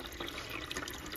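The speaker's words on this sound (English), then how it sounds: "pour your water into the reservoir" Water pouring steadily into the reservoir of a portable nugget ice maker, a soft continuous splashing trickle heard close up and quiet, with no talk.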